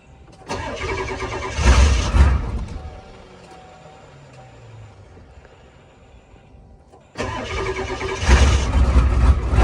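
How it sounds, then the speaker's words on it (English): An old IDI diesel engine with glow plugs at full heat cranks and rumbles, fades to a low running idle, then roars loudly again. "now we'll let her rip with the glow plugs at full heat"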